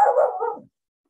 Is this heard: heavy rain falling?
no